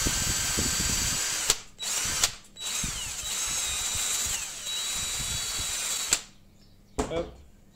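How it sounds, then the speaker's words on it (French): A handheld electric drill fitted with a small metal wire disc brushes a painted surface, a steady grinding whir with brief pauses and restarts, loud and close. "je vais utiliser ma perceuse avec un petit disque métallique comme ça pour venir brosser"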